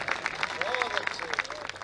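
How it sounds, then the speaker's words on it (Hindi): Audience applause at a Hindi poetry gathering, moderately loud with clearly separated claps, while a voice speaks over it. "तालियां बजाइए।"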